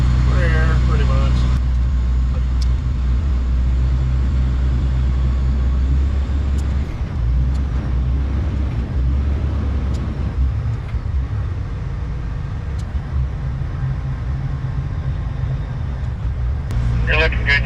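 A bed truck hauling a drilling rig crown during a derrick move, its engine a steady heavy low drone throughout, with people talking over it.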